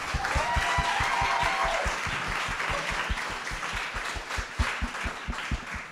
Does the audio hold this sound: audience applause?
yes